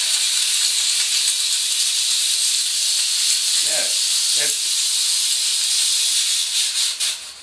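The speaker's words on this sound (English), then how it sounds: "It's not quite instant steam." Beldray 12-in-1 multi-functional steam cleaner giving off a steady, loud hiss of steam that runs the whole time, with a couple of short voiced sounds briefly breaking in near the middle.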